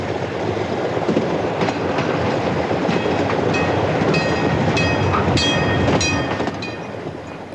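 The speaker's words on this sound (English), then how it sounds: "Enthusiasts say that all the senses are stimulated by a steam haul train." A steam-hauled train rolls along the rails in a loud, continuous rumble, with repeated metallic clicks and clanks from the wheels and carriages running throughout and no voices.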